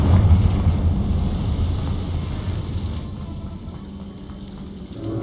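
Confringo, a fiery blast spell in the Hogwarts Legacy video game, bursts with a heavy low rumble that roars and slowly trails off over several seconds, with no talk.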